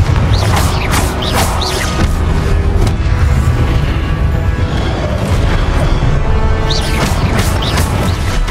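Confringo blasting spells going off in Hogwarts Legacy, loud booming explosions with crashing debris and creaks that fill the whole stretch without a break.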